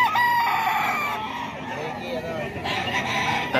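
Sir JC's Golden Boy rooster crows at a rooster market in Bocaue, loud and near, with other fowl clucking and a murmur of market noise behind.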